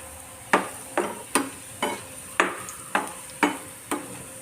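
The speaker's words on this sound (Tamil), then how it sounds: "நல்லா பிரட்டி போட்டாச்சு நல்லா கலகடுங்கிட்டு ஆயிடுச்சு" Banana flower chilli being stir-fried in a pan, a soft sizzle under a regular series of sharp spatula scrapes and knocks about every half second, close by with no voices.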